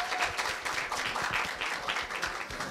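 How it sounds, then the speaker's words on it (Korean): Audience applause after a middle school student's speech at a Korea University speaking festival, dense steady clapping from a hall crowd lasting throughout, fairly loud with no voices over it. "다시 한번 큰 박수 부탁드립니다"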